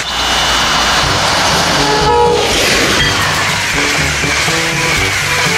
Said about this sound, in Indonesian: lihat di sini ada kereta cepat